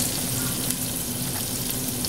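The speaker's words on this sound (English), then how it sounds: "I'm going to scrape some of these scrapings off the bottom of this pot" Browned bits scraped off the bottom of a hot pot while making Swedish meatballs, a dense continuous sizzle with a rough scraping texture, loud and close, with no clear separate strokes.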